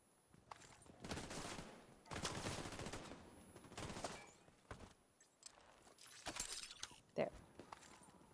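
An automated turret in the video game Division 2 fires in several rapid bursts of gunfire, with brief gaps between volleys, mixed with game effects.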